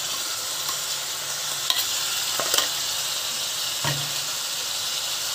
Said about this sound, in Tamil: இதுவும் பாத்தீங்கன்னா அந்த பச்சை வாசம் போற வரைக்கும் நல்லா வதக்குங்க